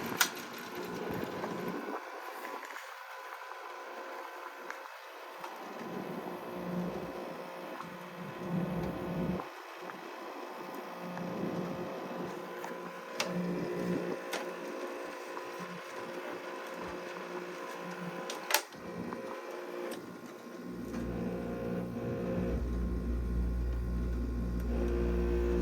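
A Carrier UC series 8,400 BTU window air conditioner runs with a continuous broadband whoosh of fan noise. A few faint clicks sound partway through, and a low hum swells in near the end. It is fairly quiet overall.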